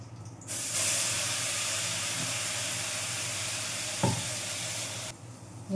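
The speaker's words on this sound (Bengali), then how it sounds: "এই যে সাদা জিরে আর একটু হিং ফোড়ন দিলাম" White cumin seeds and a pinch of asafoetida hit hot oil in a kadai and sizzle loudly and steadily for several seconds, with a brief stirring clink partway through, close and without talk.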